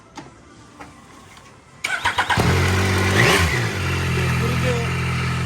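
A Yamaha Tracer 9 GT motorcycle engine cranks and fires after a quiet stretch, then settles into a steady, loud, close idle with a brief blip of revs.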